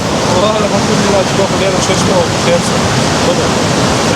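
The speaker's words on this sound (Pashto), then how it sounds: "دا د اوبو غږ و دغه" River water in Nuristan, Afghanistan rushes in a loud, steady, unbroken roar close by, with faint voices partly buried beneath it.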